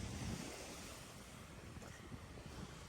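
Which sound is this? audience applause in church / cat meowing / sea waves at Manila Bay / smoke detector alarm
sea waves at Manila Bay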